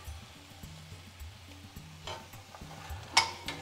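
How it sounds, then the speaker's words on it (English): A spoon scrapes and stirs chicken korma curry in a pan with soft, irregular knocks and a faint sizzle underneath, ending with a sharper clink. "Keep stirring it."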